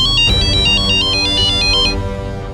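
A phone ringtone plays loud and close, a repeating electronic melody of short high tones lasting about two seconds before cutting off.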